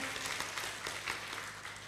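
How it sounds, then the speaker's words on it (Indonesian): Congregation applause during a live-streamed GSJA Pancaran Kasih church service, a brief steady burst of many hands clapping, soft and somewhat distant, with no voices over it. "Tepuk tangan"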